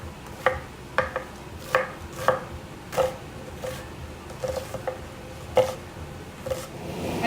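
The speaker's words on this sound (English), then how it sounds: "we're gonna chop our onion. Chop it finely in little cubes" A knife chops an onion finely into cubes on a cutting board, making a steady series of sharp, close taps, about eight to ten, at an uneven rhythm.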